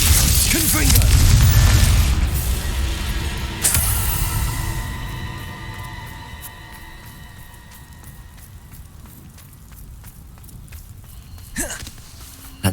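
Spell blasts in the Hogwarts Legacy game, including fire and explosive spells, a heavy booming burst at the start and a sharp crack partway through that decay into a lingering ring, with a voice speaking.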